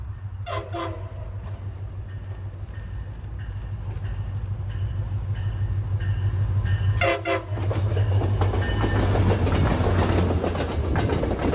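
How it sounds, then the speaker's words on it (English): A MARC commuter train rumbles past Halethorpe station on the Northeast Corridor with a steady low drone and rhythmic clatter of wheels, a horn sounding at the start, growing louder and closer. "Here is MARC train number 478."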